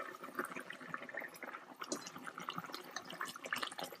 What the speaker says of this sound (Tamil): இப்போ நல்லா கொதி வந்துருச்சு.